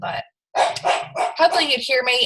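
A dog barks repeatedly at someone driving past, sharp close barks in quick bursts mixed with someone talking over them indoors.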